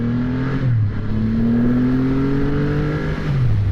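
A 2021 Triumph Rocket 3R muscle cruiser accelerates hard in a pull test, its big engine droning loud and close, pitch climbing steadily, dipping briefly at gear changes, then rising again.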